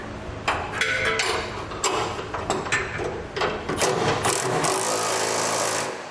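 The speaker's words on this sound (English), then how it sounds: "come over here and tighten these two bolts down that hold the two plates together" Bolts being tightened on the driver's side plates of a B and W Turnoverball underbed gooseneck trailer hitch, giving a dense run of close metallic clanks, ratchet clicks and scraping that continues steadily for several seconds.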